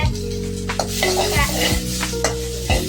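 Ingredients frying in a hot pan for Mitcher chat, stirred steadily until golden brown: a loud, close sizzle with repeated scraping stirs and a low background hum, no talking.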